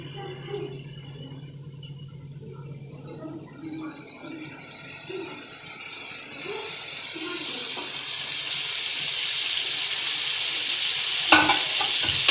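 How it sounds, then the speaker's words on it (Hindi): Chicken frying in a kadai over high heat gives a steady, loud sizzle with hiss that builds over the clip, with occasional stirring scrapes near the end and a low hum underneath. "हमारा चिकन फ्राई हो रहा है।"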